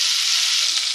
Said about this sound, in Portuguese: Primeiro eu coloquei o bacon na panela